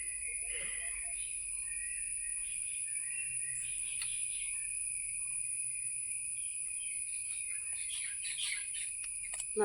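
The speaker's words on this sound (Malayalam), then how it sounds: "നിറയെ കിളികളും." Birds chirp in a sunny outdoor yard, with faint scattered calls that grow clustered near the end over a constant, shrill insect drone.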